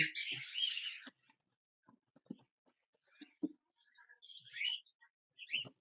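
A cockatiel chirps in short bright bursts, with a loud squawking call at the start and scattered quieter clicks and rustles between the calls.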